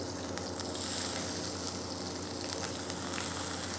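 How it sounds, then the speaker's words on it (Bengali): Chopped onion fries quietly in mustard oil for khichuri, a faint, even sizzle with small crackles and no talk. "পেঁয়াজটাকে আমরা হালকা একটু ভেজে নিব।"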